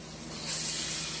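Beef broth hitting a hot pan of stir-fried cabbage, a brief rising sizzle and hiss that swells and holds close up.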